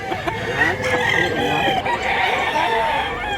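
A two-year-old gamecock rooster crows loudly and close, one drawn-out cock-a-doodle-doo filling the moment, with faint voices in the background.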